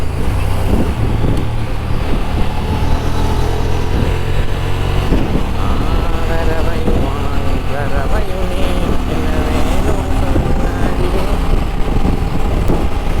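A Honda Transalp 750 motorcycle engine in sport mode roars steadily at high revs, a continuous loud mechanical drone with wind noise, as if heard from the rider's position.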